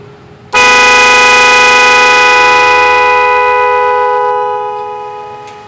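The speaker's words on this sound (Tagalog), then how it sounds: "normal na busina lang ang lalabas. Pero kapag pinigan natin ang clutch, yung malakas na busina ang tutunog" A loud car horn wired to the clutch blares in one sustained honk that starts abruptly and holds steady, slowly fading toward the end, with no talking over it.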